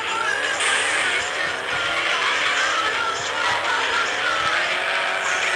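Racing cars in an extreme car driving video game, a loud continuous engine roar with rising whine and tire noise, steady and close without a break.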